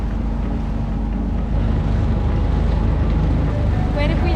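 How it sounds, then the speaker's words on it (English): A small dinghy outboard motors across Annapolis harbour at sunset, a constant close engine drone mixed with heavy wind buffeting and water rush, growing slightly louder halfway through, with no clear voices. "After dinner, we decided to go on a dinghy sunset cruise and take the long way home round the harbour of Annapolis"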